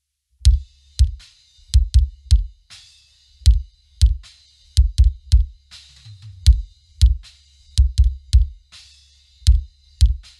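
Punchy synthesized kick drum hits in a fast, irregular metal pattern, each with a sharp click on top and a deep booming sub-bass tail, loud and alone.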